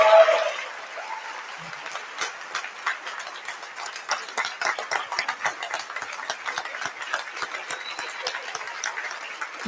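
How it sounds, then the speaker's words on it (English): A university convocation audience claps in a sparse, uneven round of applause, with individual hand claps standing out after a brief louder opening burst. "Let's give all three a round of applause"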